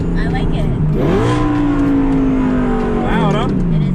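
A loud supercar engine revs hard from inside the cabin, its tone climbing and then holding a steady high drone before it eases off and rises again.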